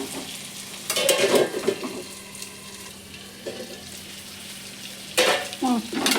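Masala chicken frying in a pan over medium heat, a loud close sizzle with bursts of stirring and scraping at intervals, no talk.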